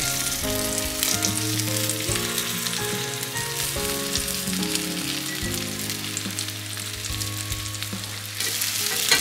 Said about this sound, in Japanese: 油を熱し、鮭の皮目を下にして並べて中火で焼きます。